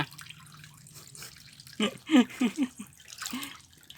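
Cold water pours and leaks from a container in a short run of close splashing gushes and drips, with quieter muffled background sound before and after.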